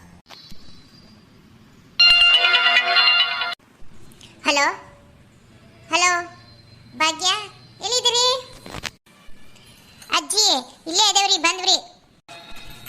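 A phone's ringtone plays briefly near the start, then a child and an adult talk in short bursts.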